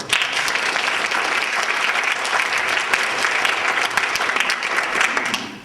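An audience in a church claps for a speaker at a debate on God and morality, with loud, sustained, evenly dense applause throughout and a slight drop at the very end.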